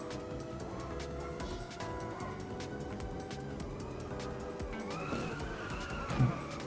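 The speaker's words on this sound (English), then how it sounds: "Why is this car farting?" A car in the driving game Inertial Drift gives off a sputtering, popping engine note with shifting revs and a brief louder burst near the end, heard alone with no talk.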